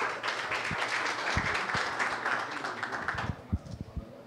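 Audience applause at a municipal consumer defense commission hearing in Angra dos Reis, a short round of clapping that fades into scattered individual claps and thumps near the end.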